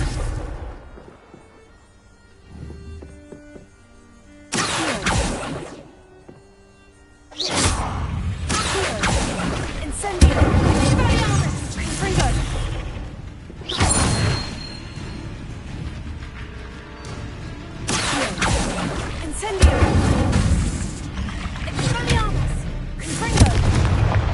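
Spell blasts from the Hogwarts Legacy game on PS5 burst in repeatedly: sharp whooshing casts, booming fiery explosions and crackling impacts come in loud bursts separated by quieter gaps with faint game ambience and spoken incantations.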